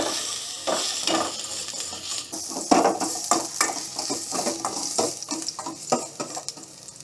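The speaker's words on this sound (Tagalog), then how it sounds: "Lagay po tayo ng mantika. Okay. Gisa time. Unahin natin si luya. Halo-halo." Ginger sautéing in hot cooking oil in a pan, a steady close sizzle broken by repeated stirring scrapes and clinks of the utensil, with no talking.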